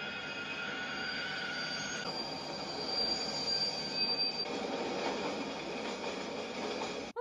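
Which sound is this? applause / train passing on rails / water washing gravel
train passing on rails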